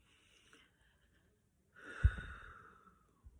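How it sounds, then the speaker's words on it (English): Slow, deep breathing during a guided prayer: a long, soft, airy exhale swells and fades near the middle, close and alone, with only faint breath noise before it. "So let's just breathe right now."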